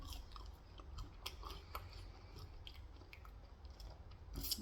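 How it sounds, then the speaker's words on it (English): Close, soft crunching and squishing of a crisp, juicy Burger King pickle being chewed, with irregular bites and a louder crunch near the end, no talking. "Thanks for a nice, big, fresh, juicy, fat, crispy, crunchy pickle,"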